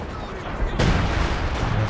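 An artillery base barrage in Company of Heroes 2 hits with a sudden loud blast, followed by a sustained rumbling roar of explosions and battle noise over the earlier low background din.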